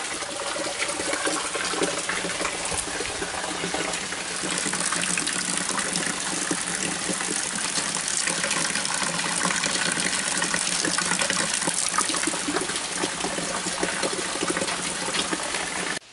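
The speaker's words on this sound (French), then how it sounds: "Au moins, la poubelle se remplit d'eau." A trash bin fills with water, a strong continuous gushing rush that stays loud and even throughout, close by and with no voices.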